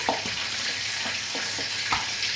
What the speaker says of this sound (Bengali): এই আমার মাছ একটা ভাজা হয়ে গেছে, এগুলো আমি তুলে নিচ্ছি